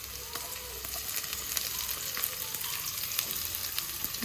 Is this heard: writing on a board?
no